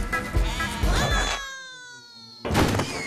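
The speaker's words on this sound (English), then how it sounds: "Comes everyone's favorite farm animal, Shaun the Sheep." Sheep bleating from Shaun the Sheep, an animated farm-animal trailer, with loud, wavering bleats sounding before and after a short stretch of quieter, tonal music.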